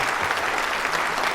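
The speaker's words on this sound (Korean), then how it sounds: "큰 박수 부탁드리겠습니다" A brief burst of dense audience applause fills a hall as Dr. Lee Jang-han enters, steady and loud throughout.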